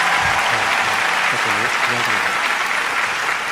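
Dense, loud audience clapping at an evening Diamond Rally awards celebration, continuous and even throughout, with faint voices underneath.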